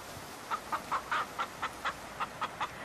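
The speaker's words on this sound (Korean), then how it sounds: "암탉들이 조금 술렁대는가 했더니 이내 잠잠해졌다." Hens cluck in a quick, evenly spaced run of about ten short notes, close and clear against a quiet background, used as an audiobook sound effect.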